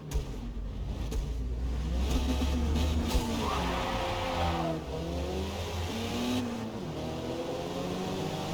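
A Mazda MX-5 in the Forza Motorsport racing game revs and bogs down at a launch, a near engine note rising and falling with other car engines droning steadily beneath it, no voices over it.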